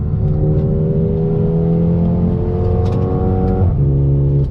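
A 2021 Mercedes-AMG GLA 35 SUV accelerates hard out of a turn, its engine droning loudly and climbing in pitch, with a brief dip in tone as it shifts before pulling on.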